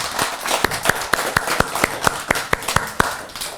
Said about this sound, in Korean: 박수 한번 쳐주자고요.